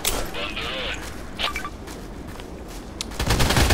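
Gunshots in the online shooter Contract Wars, a few sharp cracks and a dense burst of fire at the end over background game noise.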